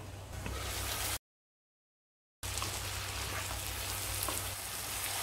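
Vegetables sauté in a pan for Chettinad aviyal with a soft, steady sizzle and crackle. A brief stretch of total silence breaks it in the middle before the frying resumes.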